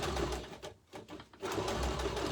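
Sewing machine stitching in reverse while making a Christmas stocking: a steady, loud mechanical whir that drops out briefly in the middle, then resumes continuously.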